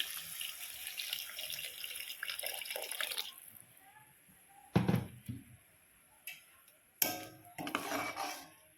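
Water runs and splashes into a metal pot of raw banana and taro being cooked, for a few seconds, followed by clanks and scattered drips of kitchenware.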